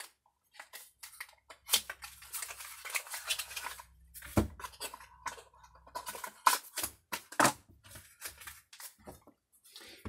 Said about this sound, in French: je mélange des cartes